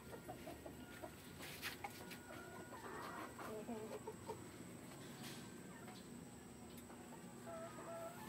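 Chickens cluck and call around a backyard, with several birds heard at once and a steady outdoor background hum.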